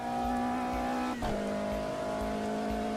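Car engine strains at high revs in a racing video game, a steady loud drone that dips and shifts pitch briefly partway through, as if changing gear, then holds its whine to the end.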